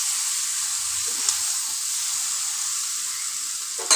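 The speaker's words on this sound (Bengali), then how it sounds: "এবার ভেজে রাখা এঁচোড় আর আলুগুলো দিয়ে তরকারিটা আবার আমরা ভালোভাবে কষাতে থাকবো" Fried jackfruit and potatoes sauté in a Bengali curry, giving a strong, steady close sizzling hiss with a couple of light utensil taps, one sharper knock at the end, and no speech.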